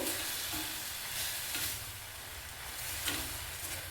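Dill leaves being stirred into a sizzling masala in a pan, a steady soft frying hiss with faint scraping strokes of the spoon, no voices.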